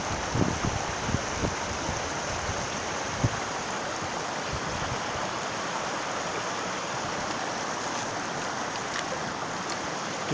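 Clear water flows steadily in a mountain valley stream near Mangbulsa in Gwangyang, Jeonnam, making a constant broad rushing wash. It is close and unbroken, with no talking.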